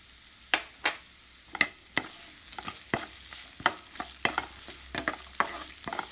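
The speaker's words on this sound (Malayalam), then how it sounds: "ഇതിലേക്ക് ഒരു വലിയ സവാള അരിഞ്ഞിട്ട് കൊടുക്കാം." Chopped onion frying in a pan of browned chana dal and red chilies as it is stirred, with a steady sizzle under repeated sharp scraping and clacking strokes from the spoon, close and fairly loud, no talk.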